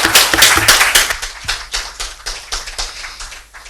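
An audience bursts into applause after a presidential speech in Ghana, a dense close burst of clapping that gradually thins and fades over a few seconds, with no one talking.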